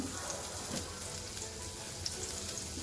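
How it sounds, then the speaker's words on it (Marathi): Onion sautéing in a pan on a gas stove for Maharashtrian baingan bharit, a steady soft sizzle with faint stirring scrapes running throughout, fairly quiet and with no voices. "आधी आपण कांदा परतो"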